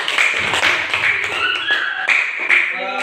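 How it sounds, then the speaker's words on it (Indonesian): Classroom applause for a student group, a quick patter of many hands clapping close by, with a voice rising near the end. "Tepuk tangan untuk kelompok 4."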